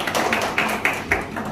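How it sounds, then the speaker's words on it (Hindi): Loud clapping from a group of trainees at an industrial visit to a fish feed plant, with a few sharp, louder claps standing out over dense, steady applause lasting under two seconds. "जोरदार ताली हो जाए"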